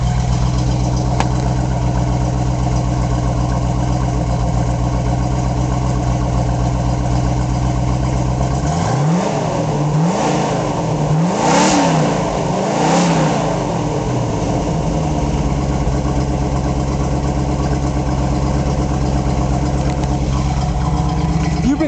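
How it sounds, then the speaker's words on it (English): A fully restored 1969 Ford Bronco engine idles with a steady low rumble, then revs up several times in quick rising-and-falling bursts before settling back to a loud, close, even idle. "Let you hear it running."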